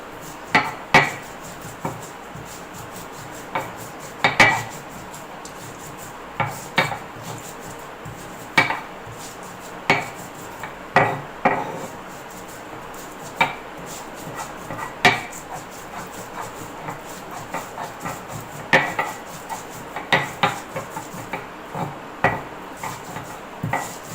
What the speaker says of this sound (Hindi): मैं ये छुहारे पीस रही हूँ।